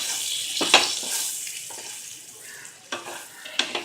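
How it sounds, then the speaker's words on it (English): Stuffed okra (bharvan bhindi) stirred in a pan over reduced flame: a low sizzle broken by a few sharp spatula scrapes and knocks against the pan, with no talking. "Stir it for a while."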